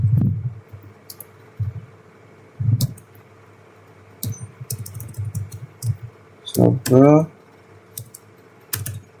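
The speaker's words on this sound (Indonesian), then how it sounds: "coba ketik di sini disable." Keystrokes on a computer keyboard entering a configuration command, coming as scattered clicks and short bursts close by, with a person speaking over part of it.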